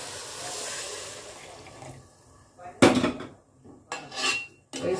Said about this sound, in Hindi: ये गरम पानी डाल देते हैं।